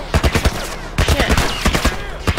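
Rapid bursts of gunfire in the video game The Last of Us, repeated sharp shots in quick clusters, loud and close.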